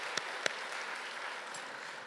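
A church congregation in Seoul claps together in praise during a Korean Easter worship service. The applause is a soft, steady wash of many hands, with a couple of sharper claps near the start.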